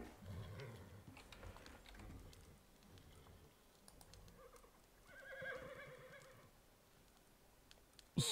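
A horse in the survival game Icarus lets out a faint neigh amid quiet in-game ambience, with scattered clicks and soft taps around it and a brief louder burst at the very end.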